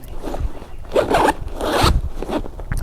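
A stiff zipper on a GWA Dyneema backpack dragged in several short, rasping pulls, close and loud, with brief catches between strokes.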